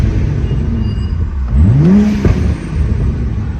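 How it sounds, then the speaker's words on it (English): A BMW N54 engine fitted with a Berk Street exhaust is given one quick, loud rev. Its pitch rises sharply, holds briefly and then drops back to a steady idle rumble. "here's a quick little revs."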